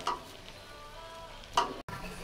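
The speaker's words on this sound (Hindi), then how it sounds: "अब इसको हम अच्छे से मिला देते हैं" Raisins and almonds being stirred into chicken mandi rice, with soft scraping and a couple of louder clinks of a spoon against the pot under a low steady hiss, no talking.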